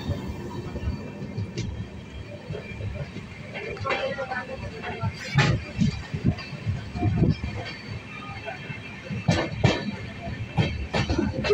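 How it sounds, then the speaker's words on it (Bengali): Train slowing after crossing the Nasipur bridge on the approach to Azimganj junction: an uneven run of wheel clacks and rumbling knocks that grow denser and louder toward the end, with voices talking over it. "নসিপুর ব্রিজ ক্রস করার পর ট্রেনের কিন্তু স্পিড অনেক কমে যায়, আর সামনে চলে আসছে আজিমগঞ্জ জংশন।"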